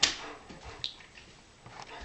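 A pet dog whimpers and whines indoors, with a sharp high yelp at the start and a few softer whines after it, close by and fairly quiet.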